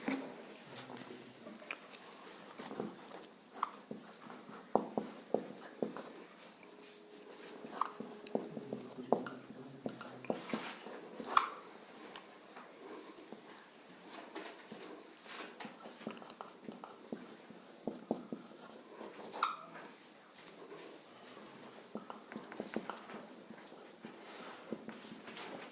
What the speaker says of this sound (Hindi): अब मैं आपके सामने कुछ सेंटेंस लिखता हूं, क्वेश्चन लिखता हूं